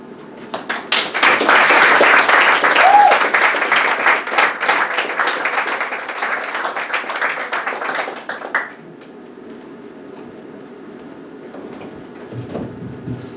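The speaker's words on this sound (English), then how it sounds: "Give AC another round of applause, please." Audience applause after a poetry reading at a poetry event, dense sustained clapping for about eight seconds that then drops away to quiet room tone with a few faint sounds.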